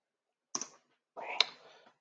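Keyboard typing while entering commands for Rust on console: two short bursts of clicking key presses, a brief cluster followed by a longer run, close and fairly quiet.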